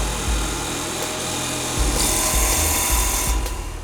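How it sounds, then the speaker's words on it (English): A wood lathe takes the initial cut on a baseball bat blank, giving a continuous rasping, scraping grind over a low machine rumble, with a few thumps and brighter surges along the way. "then we move it into the lathe to do the initial cut"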